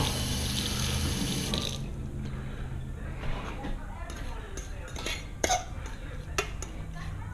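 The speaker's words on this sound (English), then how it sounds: "Rinse off the fork." A fork rinsed under a running kitchen tap: a steady, close rush of water for about two seconds, then the stream stops and light clinks and handling noises follow over quieter background.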